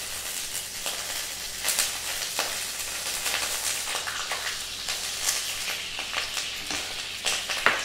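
Pure desi ghee goes into a pan for besan ladoo and fries with a steady close sizzle, broken by scattered crackles and the scrape of stirring, with no voices.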